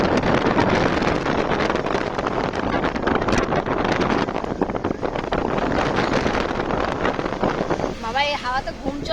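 Strong wind buffeting the microphone outdoors on a moving boat, a loud continuous roar that persists throughout, with voices briefly audible near the end.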